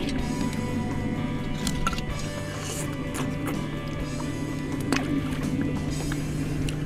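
A boat motor idles steadily while the boat eases in toward shore on a clamming outing. The low, even engine hum continues throughout, with faint water and hull sounds and no talking.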